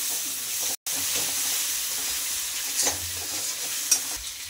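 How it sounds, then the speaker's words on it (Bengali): Ginger garlic paste fries in hot oil in a pan for a tilapia fish curry, giving a steady broadband sizzle with a few brief stirring scrapes and one short cut-out early on. "এবার আদা রসুনের পেস্ট দিয়ে দিল। এটাও একটু ফ্রাই হবে।"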